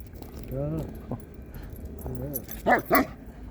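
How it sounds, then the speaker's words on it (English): A Caucasian Ovcharka dog whines in high, wavering tones at a dog park, then lets out two short, sharp barks close by near the end. "That's Loki barking, right"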